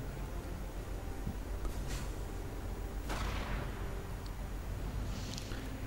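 Artillery barrage in Company of Heroes, a run of booming impacts and distant blasts rumbling under continuous game noise, with a couple of sharper bursts standing out midway.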